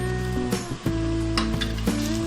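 Spices with turmeric, coriander, cumin and green chilli paste sizzle and fry in a pan for Mughlai chicken changezi, a steady close hiss with a few clinks of a stirring spoon against the pot, no talk.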